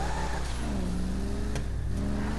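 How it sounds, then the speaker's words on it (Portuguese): A powerful car engine revs and drones steadily in GTA V, a close, continuous mid-pitched roar with no talk. "É um carro potente, viu?"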